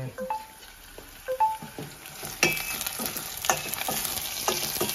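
Ginger, garlic, dried red chillies, green chillies and coriander frying in a pan, a dense sizzle that swells in after a few light kitchen clinks and then hisses steadily, close and fairly loud.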